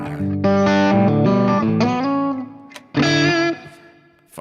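An electric guitar runs through a Fractal FM3 preset on new firmware, loud distorted chords and sustained notes with chorus-like shimmer, phrases ringing out then pausing before a final swelling chord.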